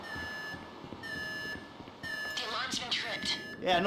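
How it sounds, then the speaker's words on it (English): A security alarm in Grand Theft Auto V beeps in repeated long tones at a steady pace, while voices talk over it in the second half. "The alarm's been tripped."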